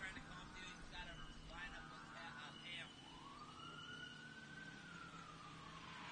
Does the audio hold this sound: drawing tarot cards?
no